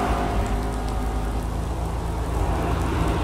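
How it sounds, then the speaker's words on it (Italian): Steady rain in the racing game Project Cars 2 at Long Beach, a dense continuous hiss with a low rumble underneath and no voices. "Ma piove tanto o piove da asciutto?"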